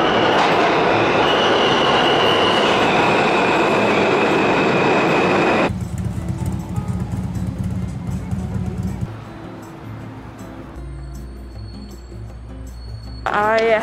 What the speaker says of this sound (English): oh, I think the train's coming.